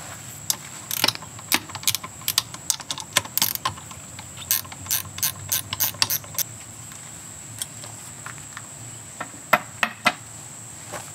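Small bolts being unbolted from the head of an electric Happijac truck camper jack, with a close, rapid ratcheting of sharp metallic clicks in irregular bursts over a steady faint hum.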